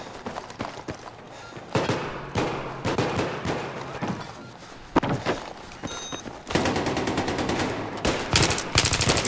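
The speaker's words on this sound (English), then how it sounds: "you keep shooting through walls" Rapid bursts of automatic gunfire and single shots in a video game, with players firing through walls; loud, uneven volleys with thuds, intensifying into dense continuous shooting near the end.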